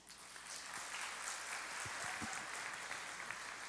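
A church congregation applauds as a soft, distant wash of many hands clapping, sustained and even, with a few faint low thumps underneath.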